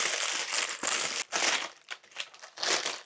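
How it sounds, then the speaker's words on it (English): Parchment paper crumpled by hand while lining a baking pan for sourdough baking, giving several bursts of crackling, crinkling rustle, close and fairly loud, with short pauses between squeezes. "to get this to sit nicely inside, I'm going to crumple it up"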